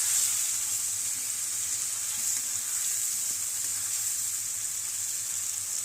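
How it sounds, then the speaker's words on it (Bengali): Spices frying with potatoes in a pan for a thin curry, a constant close, even hiss of sizzling oil with faint stirring and no talk. "ভালো করে দেখুন আলুর সাথে আমি মশলাগুলোকে ভেজে নিচ্ছে"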